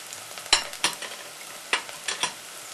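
Onions, ginger, garlic and ground cumin stir-fried in a pan with a steady sizzle and several loud, close scrapes and clacks of the spatula on the pan, spaced irregularly.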